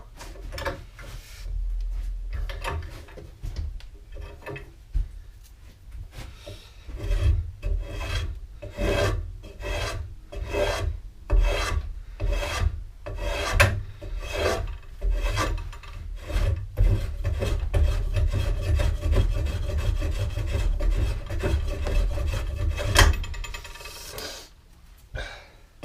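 A hand tool shaves a big corner off a wooden three-legged stool with a steady series of rasping strokes, close and even in rhythm, continuing for nearly half a minute with no talk.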